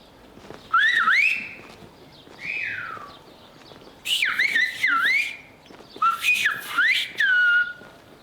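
Silbo Gomero, the whistled language of La Gomera, heard in a village street in Agulo: a series of loud, close, sliding whistled phrases with rising and falling pitch contours, separated by short pauses, with no talk.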